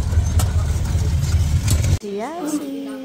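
A jeepney engine runs with a steady, loud low rumble for about two seconds, then the engine noise drops away and a person starts talking.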